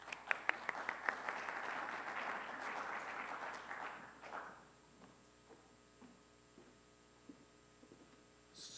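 An audience at an offshore wind symposium applauds to welcome a speaker, with a few sharp claps, then about four seconds of steady full-room clapping that fades into sparse scattered claps.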